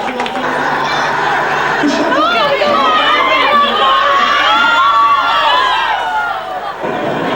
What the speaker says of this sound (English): they cheered their team on all the way